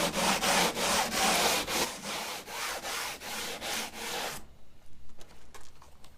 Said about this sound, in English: I've been using these sanding nets.